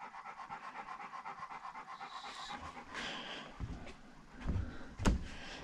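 A dog lies down panting after a long ride, a steady quick rhythmic panting close by, joined later by soft knocks and a thump.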